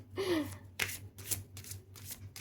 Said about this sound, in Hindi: बहुत सारे कार्ड्स निकल रहे हैं